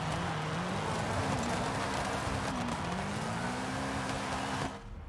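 Rally car sliding over a loose dirt surface in Forza Horizon 5, engine droning steadily with gravel hiss and a climbing pitch, loud and continuous before cutting away near the end.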